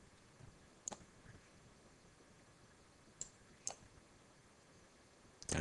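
Quiet computer mouse clicks while working in GP-Pro EX software on a Proface HMI project, with a few sharp isolated clicks spread out and a louder knock at the end.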